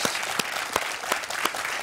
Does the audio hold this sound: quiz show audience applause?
yes